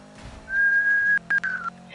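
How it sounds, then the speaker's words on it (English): A single sustained whistle, steady and tonal, holds for about a second, then breaks into a couple of shorter whistled notes. It is fairly loud and close, over a faint hum. "I just started hearing a whistling noise outside."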